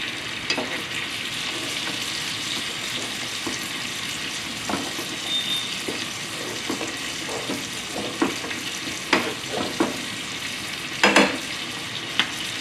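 A filet steak sears in a pan with a continuous close sizzle, broken by scattered clicks and scrapes of utensils, with a sharper clatter near the end and no talk.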